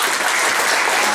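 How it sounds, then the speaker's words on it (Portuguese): A brief burst of audience applause at a project event, dense and fairly loud clapping lasting about a second. "Uma salva de palmas."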